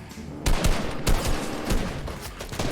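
Ice plunger gun from the video game Fortnite firing in a rapid volley, several loud, close, sharp shots in quick succession over a steady game background, with no talking.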